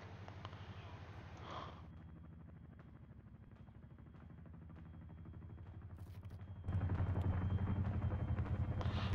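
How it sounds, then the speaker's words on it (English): A Chinook helicopter in the game Liberation sounds as a steady, rapid rotor thump, quite faint at first and then suddenly louder and closer near the end. "A Chinook."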